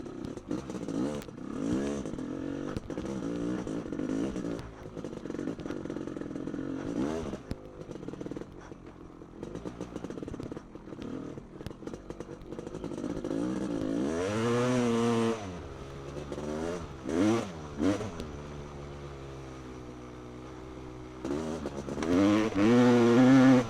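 Honda CR500 two-stroke motorcycle engine revving hard as it rides, rising and falling throttle bursts with rattly exhaust, loud and close, with some wind noise and brief talk.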